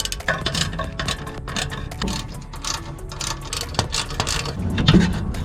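A ratchet wrench loosens exhaust nuts under a Toyota Celica, giving rapid, steady clicking that runs continuously and close at moderate loudness, with faint metallic handling noise.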